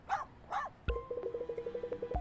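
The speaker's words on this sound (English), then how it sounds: "Sorry about the barking." A small Pomeranian dog lets out two sharp, high yaps, then a rapid run of short, regular yips, close and fairly loud, with no one talking.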